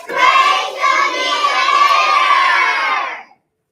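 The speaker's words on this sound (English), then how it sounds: "Let's give him a round of applause." School assembly audience of children erupting in loud, sustained cheering and shouting with some clapping for a second-grade student, holding steady for about three seconds before cutting off.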